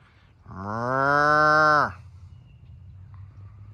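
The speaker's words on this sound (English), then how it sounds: "But cows say they're hungry." A single cow lets out one long, loud moo lasting over a second, close by, with a steady low rumble of farm background before and after.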